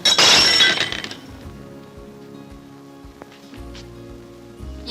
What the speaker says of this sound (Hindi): ये प्याले कैसे टूट गई?